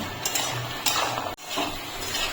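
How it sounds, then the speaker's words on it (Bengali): A utensil scrapes and knocks inside a pan while stirring palm gaja sweets coated in sugar syrup to dry the coating, with repeated close metallic clinks and scrapes and a brief pause midway. "গজাগুলো দিয়ে আমি একটু নেড়ে চেড়ে নেব।"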